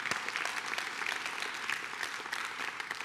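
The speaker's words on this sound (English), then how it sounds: "That is a terrible clap." Scattered audience applause during a talk about helping foster kids at Coastal Community Church, a steady but thin patter of claps at moderate distance lasting about three seconds.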